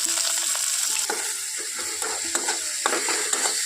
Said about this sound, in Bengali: টমেটোটাও খুব ভালোভাবে এখানে ভেজে নেব